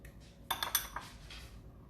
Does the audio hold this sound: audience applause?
no